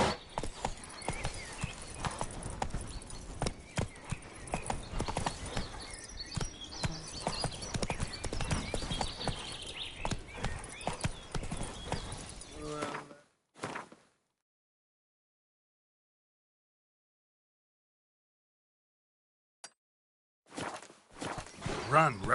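Horse Roach's hooves clip-clop steadily and close in The Witcher game for about thirteen seconds, with game music and voices mixed in, then cut to silence before a brief return at the end.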